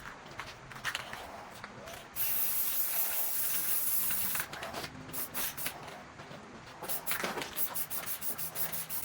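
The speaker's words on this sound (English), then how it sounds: "I think I'm going to put a clear coat on this" Spray can applying clear coat to a guitar body for a Squier Silver Sky SE partscaster build; bursts of hissing spray, one long sustained pass midway, then shorter pulsed sprays, fairly faint and close.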